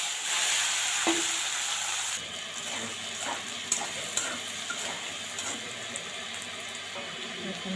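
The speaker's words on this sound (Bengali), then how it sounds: "আলুগুলো ঢেলে দেব" Potatoes fry in oil with cumin: a bright hiss shifts as the pieces go in, followed by a steady sizzle with scattered scraping and stirring clicks.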